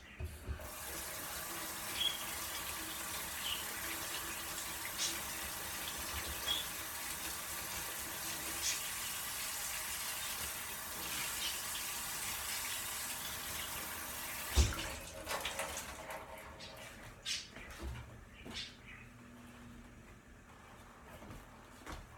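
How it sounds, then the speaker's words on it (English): Warm water runs steadily from a kitchen sink tap to rinse off an item being cleaned of sticky residue, a constant close hiss for about fourteen seconds before it stops, followed by light clatter and handling. "run some nice warm water, and rinse it off"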